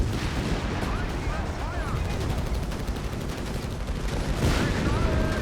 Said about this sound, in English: Crusader tanks laying down the fire.